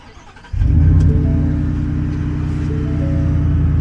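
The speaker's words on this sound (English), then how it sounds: "let's go ahead and get this started so we can hear that engine" A supercharged truck engine starts up after a moment of quiet, catching abruptly and settling into a loud, deep, rumbling idle that stays steady and close.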